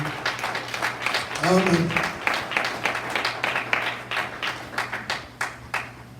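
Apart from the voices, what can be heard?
congregation applause in church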